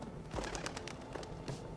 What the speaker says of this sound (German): Hier sind wirklich viele Vögel.